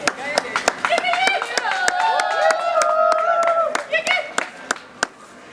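Guests at a civil wedding ceremony clap in scattered, distinct hand claps while a voice sings or calls out over them, fairly close and lively.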